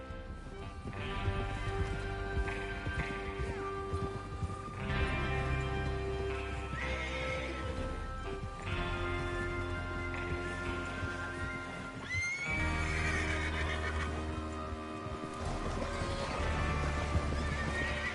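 Horses whinny and neigh repeatedly over steady hoof clip-clop in Red Dead Redemption 2, with a continuous backdrop of galloping movement and ambient game music throughout.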